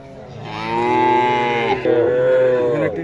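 A calf at a cattle show moos loudly and close by, one long drawn-out bellow with a brief break partway through, heard alone.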